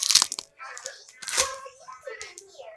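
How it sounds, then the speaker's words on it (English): Used tape crinkles and crackles as it is crumpled by hand, short close rustling bursts with bits of speech around them. "What I do when I'm done with the tape is I'll crumple it up like this."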